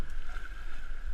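Canoe being back-paddled on a fast creek, with steady rushing water and paddle wash filling a short, close stretch.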